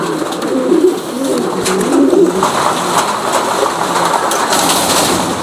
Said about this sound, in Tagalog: Naligo na yung kalapate natin.